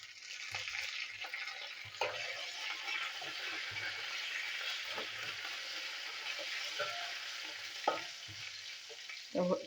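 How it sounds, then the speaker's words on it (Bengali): Garlic, dried chilli, mustard seeds and curry leaves sizzle in hot oil for a tempering for masoor dal, a steady close hiss with occasional stirring knocks and spatters. "এখানে রসুন, শুকনো লঙ্কা, সর্ষে দিলাম, আর একটু কারি পাতা দেবো। রসুনটা আর একটু ভেজে নিই।"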